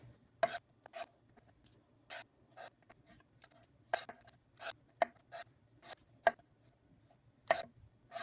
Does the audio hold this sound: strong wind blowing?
no